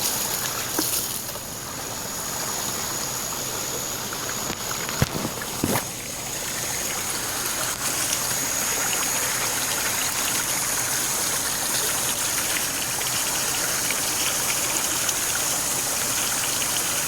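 A stream rushes continuously beside a rural mountain farm bathing spot, a steady close wash of flowing water with a couple of brief knocks early on.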